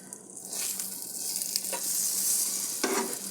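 Eggplant (brinjal) slices fry in a pan with a steady, close sizzle and occasional stirring scrapes.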